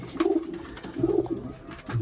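Pigeons coo nearby in soft repeated throaty phrases, two clear rounds of cooing close to the listener with no talk.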